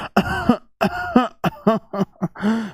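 A short run of voiced throat-clearing coughs, about half a dozen quick bursts close by, separated by brief pauses.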